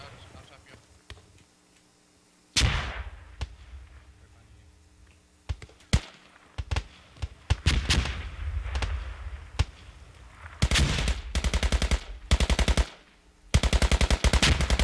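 Gunfire from the video game Squad in a competitive match: single shots, then long rapid automatic bursts that grow denser and louder, with commentators talking over them.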